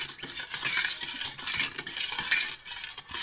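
Spoon stirring white sugar and banana-flavored jelly powder into a mixture, a steady close scraping and clinking with no pauses and no voices.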